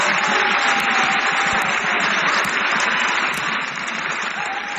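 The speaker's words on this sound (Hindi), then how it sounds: "बिल्कुल सही जवाब, तालियां बजती रहे।" An audience at a religious-social quiz event claps in sustained, dense applause, loud and steady for several seconds before easing slightly.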